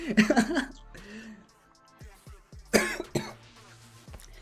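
Harsh, close coughing in two clusters, several raspy coughs at the start and another burst near the end, with throaty sounds between.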